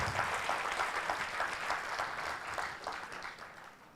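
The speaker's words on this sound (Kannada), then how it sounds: "ಇದುವರೆಗೆ ನಮ್ಮನ್ನೆಲ್ಲ ನಗಿಸಿದಂಥ ನರಸಿಂಹ ಜೋಶಿ ಅವರಿಗೆ ಒಂದು ಸಲ ಜೋರಾದ ಚಪ್ಪಾಳೆ ಮೂಲಕ ಅಭಿನಂದನೆ ಸಲ್ಲಿಸಬೇಕು." Audience applause at a World Stroke Support Day event honouring a comedian, rapid dense clapping that starts strong and gradually thins and fades over a few seconds.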